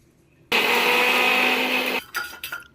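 A kitchen mixer grinder whirs loudly and steadily for about a second and a half, grinding onion, garlic cloves, two green chilies and coriander. Two short, choppy pulses of the motor follow.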